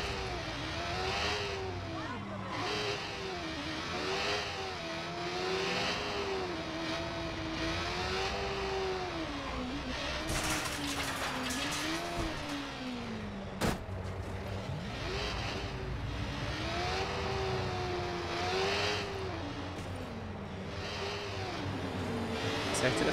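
A motorcycle in the video game Watch Dogs runs steadily, its engine pitch swooping up and down in repeated waves as it speeds along, with a sharp click partway through.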